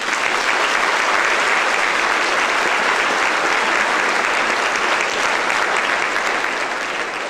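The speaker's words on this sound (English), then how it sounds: "Please join me in a round of applause." Sustained applause from a large crowd at a high school graduation, steady and full throughout with no pauses.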